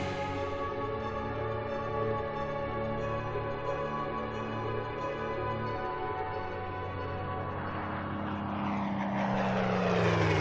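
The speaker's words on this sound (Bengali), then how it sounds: "দু-তিন দিন ধরেই মাথার উপর দিয়ে উড়োজাহাজ সর্বক্ষণ ক্ষুধার্ত ঈগলের মতো পাক খেয়ে চলেছে" An airplane circles overhead with a continuous droning engine hum. It swells louder near the end as the plane passes closer.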